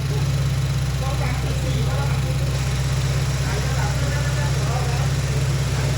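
A 2013 Honda Accord with a 2.0 engine idles steadily with its air-conditioning compressor engaged, giving a constant low hum and drone that holds evenly throughout with no revving.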